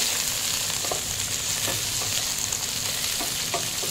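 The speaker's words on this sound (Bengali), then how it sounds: "2 মিনিট পর ঢাকা খুলে আবার একটু নাড়াচাড়া করে নিচ্ছি" Vegetables for Bengali shukto are stirred in a pan after uncovering, a constant close sizzle with repeated soft scrapes of the spatula at an uneven rhythm, no voices.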